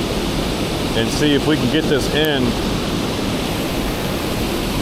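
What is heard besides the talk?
rushing water at a raging spillway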